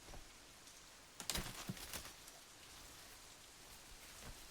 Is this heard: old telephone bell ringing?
no